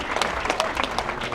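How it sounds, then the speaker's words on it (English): An audience claps together at a Las Vegas magic show at the Westgate, a brief dense burst of applause with sharp individual claps standing out, close and loud. "this round of applause is for you as well"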